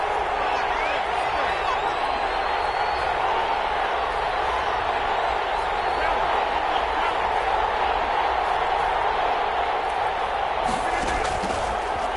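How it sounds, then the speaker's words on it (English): Steady roar of a stadium crowd in a football video game, a constant loud wash of many voices with faint claps and whoops, continuing without a break. "Crowd getting in it a bit already"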